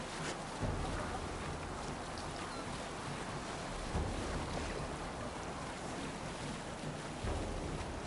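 A Viking longship sails the open sea in Assassin's Creed Valhalla, with a steady wash of waves, rushing wind and hull noise filling the scene continuously and evenly, with no talk.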